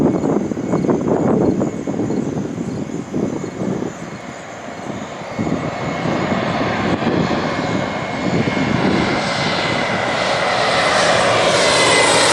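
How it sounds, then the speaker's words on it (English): A United Embraer 175 jet on landing approach at Green Bay airport, a loud sustained engine roar with broadband rumble that swells and stays steady across the whole stretch, no voices. "We have an Embraer 175 of United coming in."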